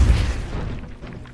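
A Confringo explosion spell cast in the Hogwarts Legacy video game lands as a deep, booming blast at the very start, then fades into a rumbling low tail over about a second.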